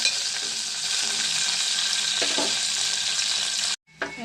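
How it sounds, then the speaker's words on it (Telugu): A tempering of red chillies, garlic, cumin, mustard seeds and curry leaves fries in oil with a dense, steady hiss and crackle. It suddenly cuts out near the end, then a brief burst of sizzle returns. "మంచిగా ఫ్రై అవ్వాలండి"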